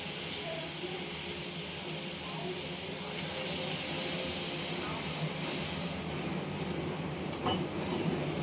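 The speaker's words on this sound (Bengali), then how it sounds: "এবার আমি এর মধ্যে একটু জল দিয়ে দেবো।" Water is poured into a pan of spiced vegetables frying in oil, and a steady loud sizzling hiss swells partway through and continues, with faint clinks near the end.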